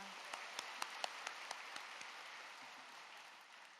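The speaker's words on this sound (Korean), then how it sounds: "은혜의 말씀 주신 목사님께 감사의 박수 드리겠습니다." A church congregation applauds its pastor, starting with several sharp, distinct claps that merge into a soft, sustained patter before fading. The applause is faint and there is no talking.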